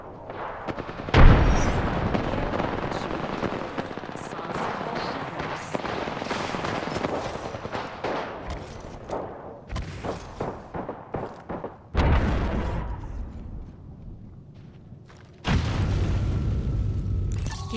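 A frag grenade is thrown and explodes during an Apex Legends Team Deathmatch on the Horizon map. Several heavy booms burst out amid sustained gunfire, with loud blasts recurring near the start, middle and end.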